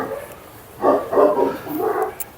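A Turkish Kangal dog gives a short run of deep barks, about three loud bursts close by in quick succession.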